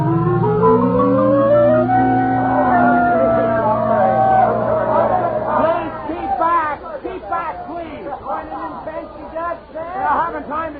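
A gathering crowd chatters in a dense babble of overlapping voices, with occasional shouts. The crowd noise stays continuous for about eleven seconds and follows a louder voice at the start.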